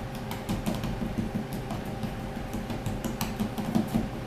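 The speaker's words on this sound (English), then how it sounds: "So with our pastry cutter, we're going to kind of cut that fat into the flour." A pastry cutter works shortening into flour for buttermilk biscuits, giving a steady stream of soft scraping, tapping clicks against the bowl, close and continuous with no talking.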